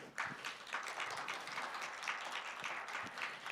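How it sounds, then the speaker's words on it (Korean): Seminar audience applause welcomes guests at the opening ceremony of a policy seminar on regional recovery after Gangwon wildfires, a steady, fairly faint ripple of clapping from a moderate-sized crowd, heard alone without speech. "힘찬 환영의 박수 부탁드립니다."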